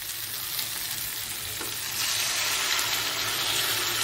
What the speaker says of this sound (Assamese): কেঁকোৰা আলু বঢ়িয়াকৈ ভজা হৈ গ'ল। তেল ওলাব আৰম্ভ কৰি দিলে।